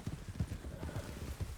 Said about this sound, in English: You believe that horse used to be a racehorse, huh?